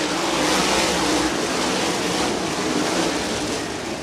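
USAC AMSOIL National Sprint Cars racing off at the green flag on the dirt at Ocala Speedway, a loud, dense engine roar filling the air steadily at a distance, easing slightly toward the end.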